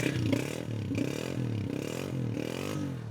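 A Honda 125 motorcycle engine idles and revs in steady pulses, a mid-pitched throaty drone rising and falling about every half second, close by.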